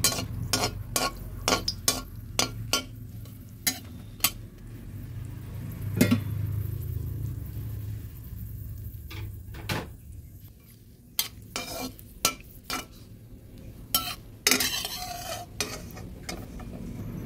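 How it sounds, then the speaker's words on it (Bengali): Dried red chillies frying in hot oil in a wok give a soft sizzle beneath frequent sharp clicks and scrapes of a spatula stirring against the pan. "এখন দুটো শুকনো লঙ্কাকে ভেজে নিচ্ছি।"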